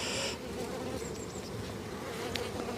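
Honey bees swarm in a packed beehive, filling the air with a dense, loud, continuous buzzing heard close up, with no speech.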